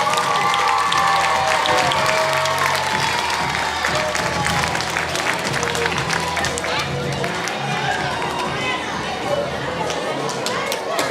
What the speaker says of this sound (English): Applause for these star students.